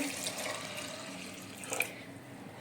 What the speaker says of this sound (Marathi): त्याच्यामध्ये मी हे गरम पाणी केलंय ते ओतते